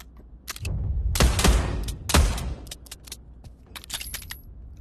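Pistol shots in the VR shooter Pavlov, dual-wielded WWII-era handguns: a few sharp, loud reports with ringing tails, followed by lighter metallic clicks and handling noises.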